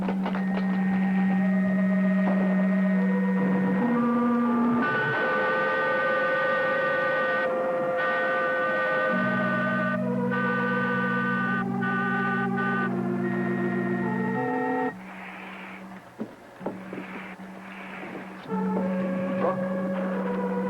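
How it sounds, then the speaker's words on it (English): A sound effect of a motor running in a 1954 TV space serial: a steady electronic hum with shifting sustained tones and pitches, loud throughout, briefly dipping quieter near the end. "The sound of a motor."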